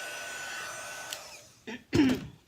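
A handheld dryer blows steadily over watercolour stamping paper for over a second, then fades out, followed by a couple of short coughs and throat clearing nearby.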